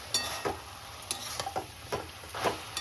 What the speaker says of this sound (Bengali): দিয়ে একটু নেড়ে চেড়ে আমি নামিয়ে দিই